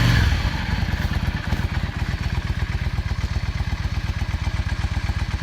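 A 2005 Yamaha V Star 650 cruiser motorcycle engine idles close by with a slow, loping rhythm of deep, uneven thumps and pops, steady throughout with no speech.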